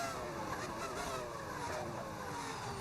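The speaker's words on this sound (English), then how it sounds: "Just enjoy the sound of a V10." A V10 engine sound mod in a racing video game drones steadily at moderate volume, the rising harmonic sweeps of the engine note running continuously without speech.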